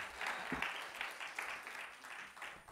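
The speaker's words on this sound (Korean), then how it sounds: "이럴 때 한번 박수 한번 주시면" A church congregation applauds during a revival night sermon, heard as a faint, distant wash of clapping in uneven surges across the room.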